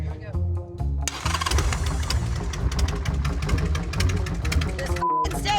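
A motorcycle engine with an electrical fault, its voltage dropping as the throttle rises, runs loud and close, revving in rough, uneven surges before cutting out abruptly and catching again.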